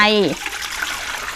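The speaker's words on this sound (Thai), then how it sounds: "ให้เราเตรียมหม้อมาค่ะ แล้วก็ใส่นมข้นจืดลงไป" Unsweetened condensed milk pours into a cooking pot for homemade chocolate ice cream; a short voice fragment opens, then a soft, close, steady liquid rush fills the rest.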